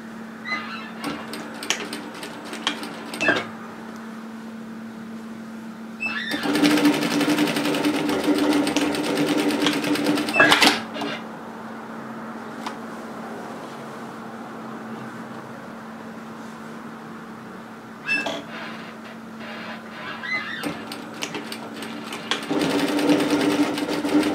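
A sewing machine stitches a seam on a woven-fabric cape, running in several loud mechanical bursts of rapid stitching separated by pauses with a steady background hum.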